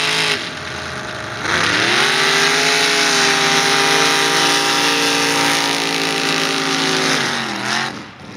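A 1986 Camaro roars down a mud drag strip against another truck at a racing event, with engines revving loudly and holding a steady, harmonic drone for several seconds before easing off.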